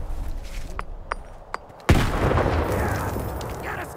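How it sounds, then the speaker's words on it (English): Grenade blast and gunfire in the video game S.T.A.L.K.E.R. 2: Heart of Chornobyl, a few sharp isolated pops followed by one loud sudden explosion that rolls into a sustained rumbling roar. "throw some grenades!"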